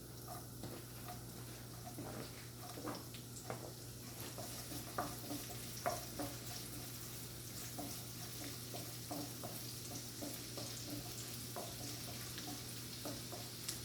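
Garlic and curry leaves sizzling in oil in a frying pan, a steady close hiss dotted with small crackles and occasional spoon scrapes, no talking.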